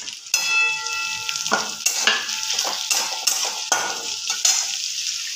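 Chopped thick green chillies fry and sizzle in hot oil in a karahi, a steady loud hiss with repeated scraping stirs of a spatula against the pan, no voices.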